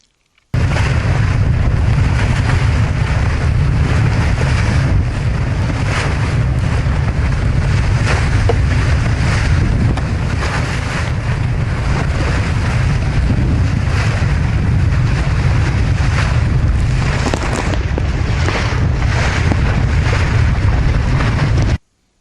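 Searunner 31 trimaran under sail on a reach, with steady loud rushing water and wave wash against the hulls and through the net, heavy wind buffeting the microphone throughout, no voices.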